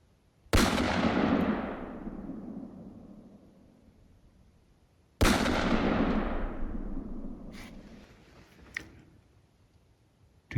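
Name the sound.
two gunshots during a deer hunt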